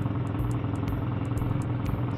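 A custom motorcycle engine idles steadily with a low, even, lumpy putter and faint mechanical clatter, close and moderately quiet, with no talking.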